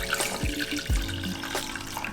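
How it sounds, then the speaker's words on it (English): Mirin and sake simmering liquid poured back into a cooking pot, a steady splashing stream of liquid with a couple of brief heavier gurgles, close and moderately loud with no talk. "Pour it back into the pot."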